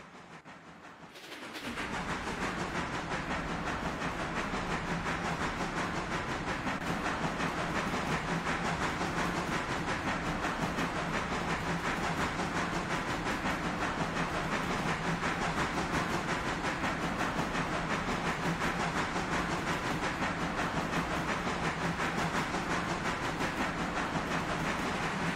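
A freight train in the railroad video game Railroader starts rolling after a brief quiet moment, then keeps up a loud, continuous broadband rumble and clatter of moving cars for the rest of the stretch.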